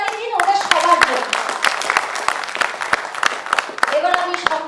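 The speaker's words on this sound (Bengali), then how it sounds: "আরেকবার জোরে হাততালি দিন ওদের সবার জন্য" A theatre festival audience claps for a drama group, a dense and steady wash of many hands close to the microphone, while a voice talks over the applause.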